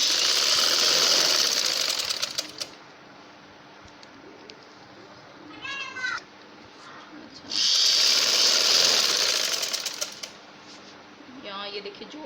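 A sewing machine stitches the seam of a dhoti shalwar in two loud sustained runs separated by a quiet gap, with faint chirping noises in the background.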